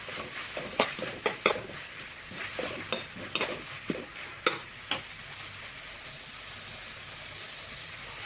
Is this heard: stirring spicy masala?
yes